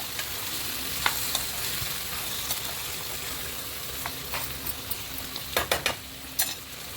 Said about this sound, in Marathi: टाकले मटण आता त्याला तिला चांगलं असं फ्राय करून घेते